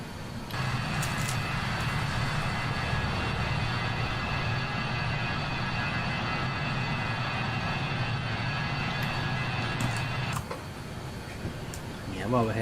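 Engines of a BAe 146 airliner in flight in Microsoft Flight Simulator hold a steady, dense drone with constant tonal whine and low rumble. A voice talks over it throughout.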